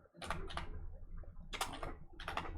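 Quiet clicking of typing on a computer keyboard, short bursts of several quick key taps with brief pauses between, close and faint with no talk over it.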